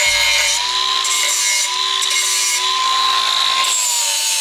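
A power tool smooths a jagged cut edge during a Honda K-series engine swap into a Nissan S14. It gives a steady, close, high whirring grind that runs continuously with slight pitch wavers and no speech.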